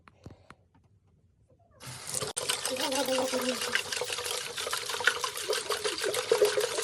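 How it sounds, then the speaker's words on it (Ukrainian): Water with a little added alcohol sloshes and gurgles inside a bottle-like Chevrolet Lacetti fog lamp housing during cleaning, a close, steady churning that starts after a quiet moment and continues to the end. "Добавляємо туди пропил трошечки. І ну, ось, ось так. І води. зараз будемо булькати."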